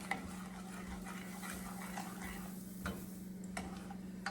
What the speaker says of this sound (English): I'm going to stir this as it heats